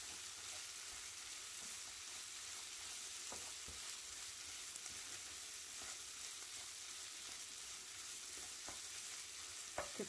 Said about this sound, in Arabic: الكفته كيتحمرت